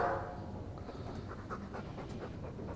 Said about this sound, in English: I'm sick of what's-his-name staring and panting.